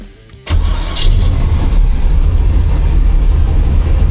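A Ford Mustang drag car with a Holley fuel system fires up after a brief moment of quiet, then settles into a loud, close, steady rumbling idle.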